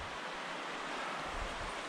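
Steady broadband rush of the Deschutes River flowing right beside a riverside campsite on a backpacking trip, a continuous close wash of moving water with no voices.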